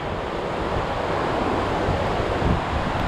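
A fast-moving small river runs as a steady, dense rush of water, unbroken and fairly loud, with no voices.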